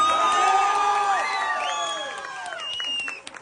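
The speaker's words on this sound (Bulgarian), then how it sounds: "Може ли малко аплодисменти за най-добрия?" A crowd at a wedding celebration cheers loudly with long, rising whoops and shouts, and a few scattered claps break through as the cheering fades near the end.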